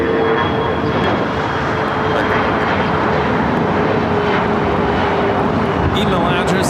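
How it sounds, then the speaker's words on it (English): A British Airways Speedbird jet rolls for takeoff at LAX, its engines producing a loud, sustained roar with a faint steady whine, while a voice speaks over the noise. "Speedbird going to be taken off here momentarily"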